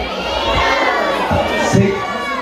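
Crowd at a church ministry gathering in Saquisilí, Cotopaxi, Ecuador, bursts into steady, loud applause and cheering, with shouting voices layered throughout and a brief louder swell near the end.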